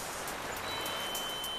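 Steady rain falling on a coastline, a soft continuous hiss with no distinct drops, moderately quiet and unbroken throughout.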